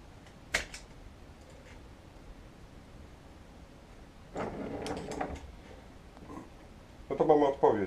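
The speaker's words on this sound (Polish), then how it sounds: "Słychać działanie stacji dyskietek." A faulty Amiga 500 floppy disk drive at work: a sharp click early on, then bursts of mechanical grinding and seeking, and a louder rattling run at the end, with quiet stretches between.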